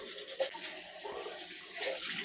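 Running water splashes while an African net sponge is rinsed, a soft irregular trickle and spatter close by, with no talking over it.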